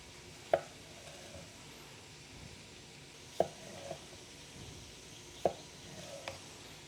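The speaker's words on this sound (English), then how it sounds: "I can't find the peeler for the potatoes, so we're just gonna cut them up and make it happen" A kitchen knife cuts through potatoes on a board, giving three or four faint, isolated chops spaced a couple of seconds apart over a quiet background hiss.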